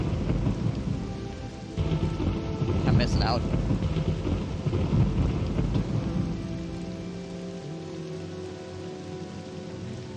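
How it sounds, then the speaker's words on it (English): Rain pours steadily and thunder rumbles in a thunderstorm in the video game Morrowind, a loud peal rising near the middle over the constant downpour, with a voice speaking briefly. "Man, the rain only got worse."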